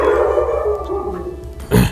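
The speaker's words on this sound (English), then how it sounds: "sorry for that barking sound" A single loud dog bark near the end, after a stretch of steady background hum and low noise.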